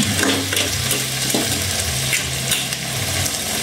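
Mixed seafood sizzles in a pan with butter and garlic while a utensil stirs it, producing steady loud frying hiss with repeated scraping strokes.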